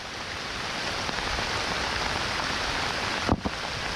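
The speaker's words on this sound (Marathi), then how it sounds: "पाऊस बघा मित्रांनो भरपूर आहे. असा खतरनाक पाऊस पडतो ना कधी बघितलं नसेल." Heavy rain pours steadily on a high hillside, a dense continuous hiss with no pauses, joined near the end by a couple of brief close knocks.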